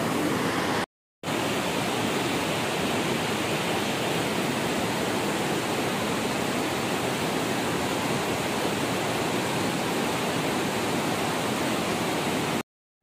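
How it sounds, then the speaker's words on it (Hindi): The Mandakini river rushes loudly below a hillside village bridge at Swarghat, a dense, steady roar of flowing water that fills the scene, with brief dropouts near the start and end and no voices. "बहुत ज्यादा आवाज कर रही है नदी"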